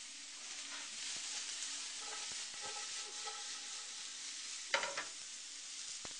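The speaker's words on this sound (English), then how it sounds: "after about 2 or 3 minutes of lightly sauteing our vegetables" Vegetables including onions sauteing lightly in a pan for a wild rice stir-fry, giving a soft continuous sizzle with a few faint stirring knocks and one brief louder clatter near the end, with no talking.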